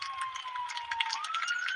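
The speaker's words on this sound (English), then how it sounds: "That siren's still going." A police-style siren wails continuously with a steady rising and falling tone, moderately loud, heard during live cricket commentary coverage of an Ireland versus New Zealand T20 match.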